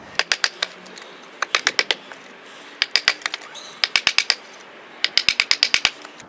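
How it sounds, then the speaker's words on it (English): A Mora Kansbol knife cuts a notch in wet wood: bursts of sharp, close clicking strokes in quick rhythmic groups, each burst several rapid scrapes, with short pauses between and no talking. "let's see if we can cut ourselves a little bit of a notch."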